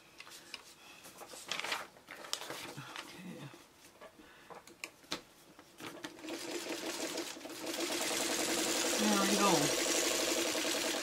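A sewing machine stitches quilt fabric pieces in short bursts among soft handling and rustling. It then settles into a steady, louder run of fast mechanical whirring toward the end, with someone talking quietly in between.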